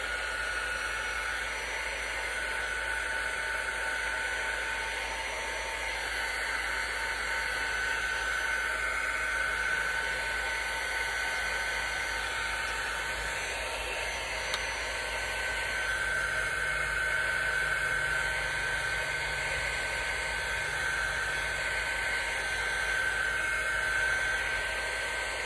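Dryer blowing on a buffalo plaid candy corn craft: steady, continuous whirring hum with an airy hiss, close and unchanging for about twenty-five seconds, with no talk.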